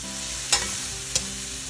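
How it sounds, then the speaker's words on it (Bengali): Meat masala sautés in a hot pan with whole garlic, giving a continuous close sizzle broken by two short scraping stirs of a spatula. "তো আমি মাংস মশলাটা কষাচ্ছি এখন"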